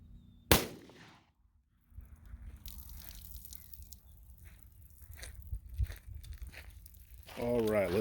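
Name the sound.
gunshot from a .357 Magnum revolver into ballistics gel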